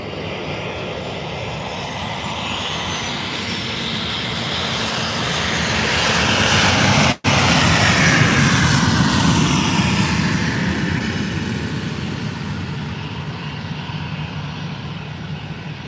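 A TUI airliner from Dusseldorf at Faro airport thunders past with a loud, broad engine roar that swells to a peak near the middle, briefly cuts out for an instant, then holds strong as it recedes.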